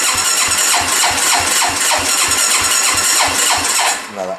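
A Hyosung 650 Aquila motorcycle engine cranks over and over with a fast, steady rhythmic chug from the starter, never catching, loud and close, ending as the cranking slows and stops.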